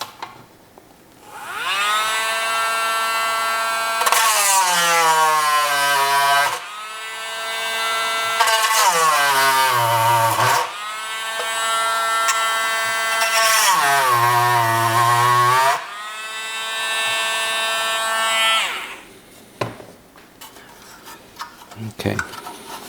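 A power drill drilling out parts of a Tomy Hearoid toy whines loudly in several bursts, its pitch sliding down and back up as it bites and spins free, with brief pauses between bursts.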